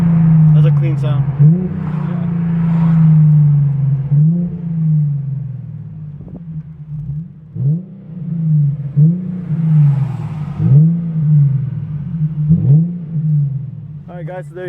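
Infiniti G37 sedan with a Topspeed axleback exhaust on a drive, a deep, steady exhaust drone heard from the cabin, then a run of short revving swells and gear shifts toward the end.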